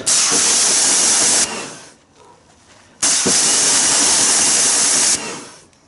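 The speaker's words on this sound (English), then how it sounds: "Again, rinse the mitt off." Pressurised water sprays loudly to rinse a car wash mitt in a garage, two long hissing bursts of about one and a half and two seconds each, separated by a quieter gap with faint dripping and handling.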